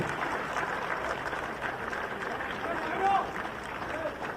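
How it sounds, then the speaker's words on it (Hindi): Applause from the audience at a ceremony where the Jharkhand Chief Minister hands out appointment letters to successful JPSC candidates, a steady patter of clapping under someone speaking over a loudspeaker. "तालियां जोरदार होनी चाहिए।"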